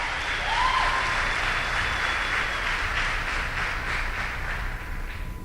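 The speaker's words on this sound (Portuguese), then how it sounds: "Dá um forte aplauso ao Espírito Santo nesta noite." A church congregation gives loud, sustained applause for the Holy Spirit during an evening service, the dense clapping joined by a few cheers and a whistle-like tone.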